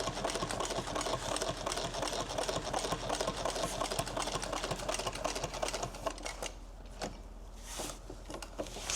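A sewing machine stitches a duffle bag in rapid, continuous mechanical chatter, then stops briefly and restarts with a few short bursts near the end.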